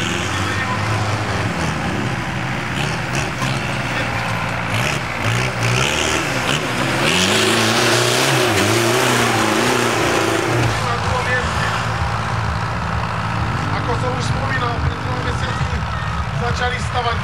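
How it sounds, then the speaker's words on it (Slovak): A tractor engine revving at the start line of a tractor race, with loud close rising and falling revs and throaty rumble, while an announcer talks over a public address. "Miroslava Koutiara z Moravského Veselého so svojím traktorom Šípak."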